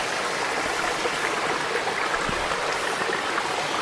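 A creek runs over rocks on a woodland walk, its water up fairly high. The rushing flow is close and steady, with a dense broadband wash and no pauses or voices.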